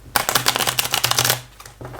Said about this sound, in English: if you want to riffle shuffle this one